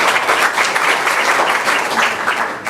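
A board of education business meeting audience breaks into steady, dense applause, many hands clapping together at close range throughout.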